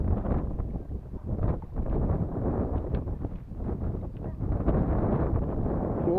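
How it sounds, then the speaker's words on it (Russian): Strong wind buffets the microphone at a waterside float-fishing spot in Perm Krai, a loud continuous low rumble with gusty surges throughout and no clear talk. "Сильно задувает ветер."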